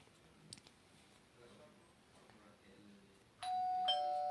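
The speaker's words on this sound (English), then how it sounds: "Ding dong." A doorbell chimes near the end, loud and ringing on after quiet room sounds and a few faint clicks.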